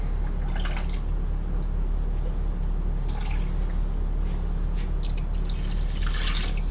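Water splashes and trickles into a bucket in short bursts over a constant low hum, with dripping and pouring sounds coming and going, while preparing investment for lost wax casting.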